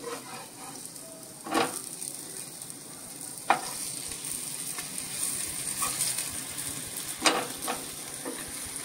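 Pieces fry in oil in a pan with a steady close sizzle and crackle, and a few louder scrapes or pops stand out now and then.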